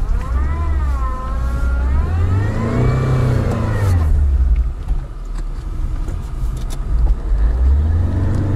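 A Lada Niva engine revs hard while accelerating for a run-up, pitch sweeping up and down through gear changes, loud and close, then settling into a rougher steady drone.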